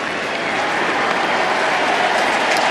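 A crowd at Nationals Park gives a sustained ovation during an NLDS baseball game, with dense, loud applause and cheering that holds steady throughout.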